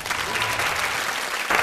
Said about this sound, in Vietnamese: xin mọi người dành một tràng pháo tay cho bé Khánh My.